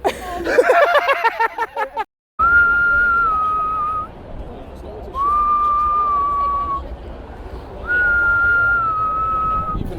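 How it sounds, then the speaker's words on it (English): A person whistles a steady tune in long sustained notes, after a brief burst of rustling at the start; close and clear. "I like circling them, yeah, and then whistling the theme tune to Dexter."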